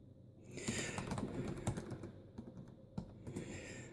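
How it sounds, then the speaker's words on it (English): Someone types on the keyboard of a Dell Latitude CPx-J laptop, producing a quick, irregular run of close, crisp key clicks with a few sharper taps. "time to type a computer name in"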